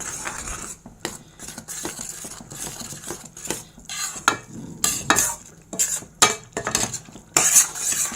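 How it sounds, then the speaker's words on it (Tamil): Idiyappam rice flour stirred into boiling water, with repeated irregular scraping strokes of a spoon against the pot over a soft bubbling simmer. "இப்போ நம்ம லைட்டாக போட்டு அப்படியே கிளறிடலாம்"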